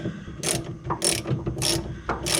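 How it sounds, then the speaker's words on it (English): A 3/8-inch drive ratchet with a 1/2-inch socket on a 6-inch extension, worked under a 1966 Ford Mustang, gives four evenly spaced bursts of clicking from close by. "3/8 drive ratchet, and a 1/2-inch socket."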